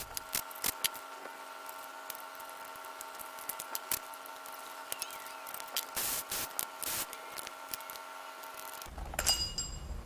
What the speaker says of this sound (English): We're going to spray some stuff in there and let it soak.